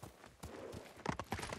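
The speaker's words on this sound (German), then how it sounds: "Das ist ein braves Pferd, Noro." Horse hooves clip-clop in a video game, Ghost of Tsushima on PS4 Pro, a quick run of soft, close steps that turns brisker toward the end, with no talk over them.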